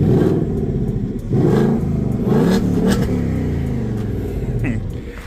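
A 2024 Mustang GT S650 with its stock exhaust revs up close by, with repeated throttle blips rising and falling over a deep, rumbling idle and no talking.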